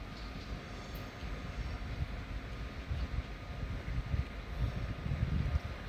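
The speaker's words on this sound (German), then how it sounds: "Einfahrt eines ICE 3, erste Bauserie. BR 403, erste Bauserie." An ICE 3 first-series BR 403 high-speed train pulls into Munich main station, a steady low rumble of wheels and traction that slowly swells, with faint station ambience and no voices.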